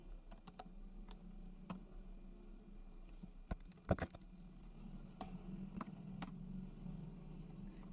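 Computer keyboard typing while filling in a university field on an online job application form: scattered, quick keystroke clicks over a low steady hum, fairly quiet, with no speech.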